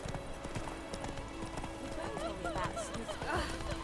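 Hooves of the horse Roach in The Witcher 3 video game, a steady clip-clop of galloping close up, with a brief neigh and a voice speaking over it.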